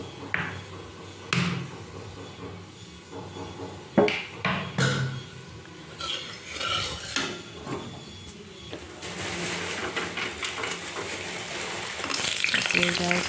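Lentil dumplings (bori) fry in hot oil in a wok, a soft crackling sizzle broken by a few sharp knocks that swells into a steadier, louder frying hiss near the end, with a voice talking over parts of it.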